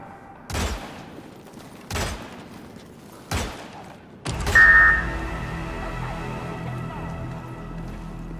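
Gunfire in the video game Hitman (2016): three separate loud shots spaced about a second and a half apart, then a heavier blast followed by a lingering rumble and ringing tone.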